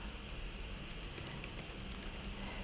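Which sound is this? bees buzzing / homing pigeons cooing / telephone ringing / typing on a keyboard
typing on a keyboard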